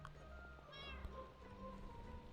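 A single short cat meow in Minecraft rises over a steady game background hum and faint music.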